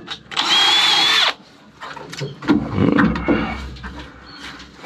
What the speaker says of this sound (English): I am actually just going to drill and tap this runner here using a combination drill and tap